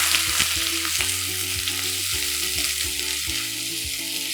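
Chopped onion dropped into hot oil with caramelized sugar and whole spices like cardamom, clove and bay leaf for mutton kosha, sizzling loudly and steadily with repeated stirring knocks, close up and alone.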